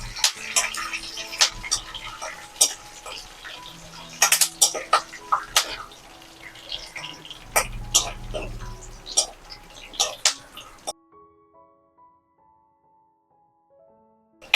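Watermelon seeds roasting in a pan give off scattered sharp pops and crackles at an irregular pace, fairly close, with soft background noise, then fall quiet near the end.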